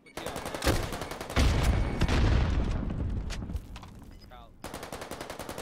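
Rapid gunfire in the Warzone video game, bursts of automatic shots with heavy booms, loud and close, with a brief lull of faint in-game sounds before another fast volley.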